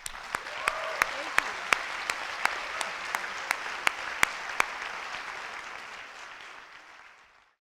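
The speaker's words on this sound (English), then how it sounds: "Can we just give our presenters, our moderator, just another round of applause?" A university forum audience applauding its presenters and moderator, sustained clapping that is loud with sharp individual claps standing out, then fading away over the last couple of seconds.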